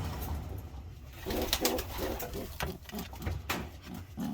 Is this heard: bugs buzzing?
no